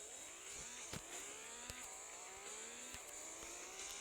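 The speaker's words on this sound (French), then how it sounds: "Je sais pas pourquoi j'ai envie de me promener avec une voiture Peugeot." A Peugeot car in a video game drives with a steady engine drone, its pitch climbing and dropping repeatedly as the gears shift, broken by a few sharp clicks, and no voices.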